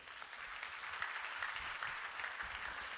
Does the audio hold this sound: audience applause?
yes